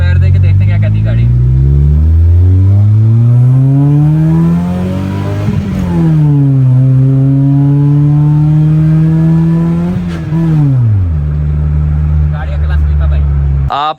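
A turbocharged track car with a freshly rebuilt 500 hp engine, formerly a B18C, revs hard under acceleration. The loud engine note climbs through several gears, each rise dropping back at the shift, and it stays steady throughout the run.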